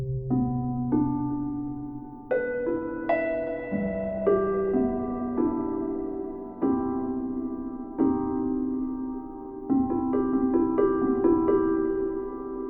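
Frozen piano patch from Komplete 13 Evolve Mutations 2, slow single notes and chords struck one after another and left ringing with long shimmering decays, soft and close with no talking.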